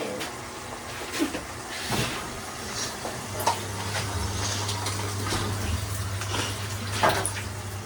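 Water poured into a non-stick pan during cooking, a low steady splashing and trickling with a few clinks of utensils, close by, with faint background sounds.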